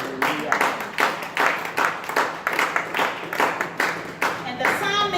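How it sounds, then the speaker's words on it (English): Somebody clapping in a church service, a steady run of about a dozen sharp, evenly spaced hand claps, fairly close and distinct, with voices faintly underneath and a voice near the end. "I heard somebody clapping."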